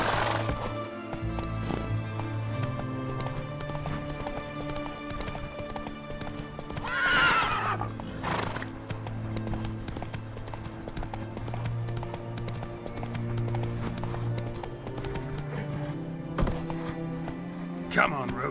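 Roach, the horse in The Witcher 3, gallops with steady rhythmic hoofbeats and a brief whinny, game music droning underneath while a voice speaks to the horse.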